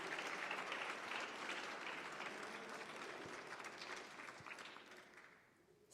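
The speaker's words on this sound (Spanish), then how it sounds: "Un aplauso al Señor." A church congregation breaks into sustained applause, a dense wash of clapping that holds steady and then fades toward the end.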